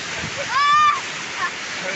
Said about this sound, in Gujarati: નીચે ઉતરો, ભયંકર પૂર છે ભાઈ